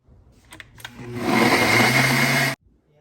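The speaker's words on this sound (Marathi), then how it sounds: "हे बघा आपण हे मिक्सरला वाटून घेतलं आहे" A kitchen mixer grinder whirs loudly as it grinds sesame seeds and jaggery, spinning up for about two seconds and then cutting off sharply, with a few brief clicks before it starts.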